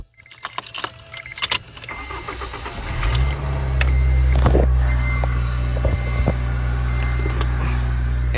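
Keys jangle in the ignition of a 2000–2005 Acura RSX, then the engine cranks and catches about three seconds in, settling into a steady, close idle rumble.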